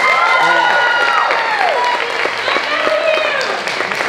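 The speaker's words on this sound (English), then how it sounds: "let's also give Chris and the people the sound crew up there a big round of applause" A crowd at a day-long awakening event applauds and cheers for the sound crew, loud sustained clapping mixed with whoops and shouting voices.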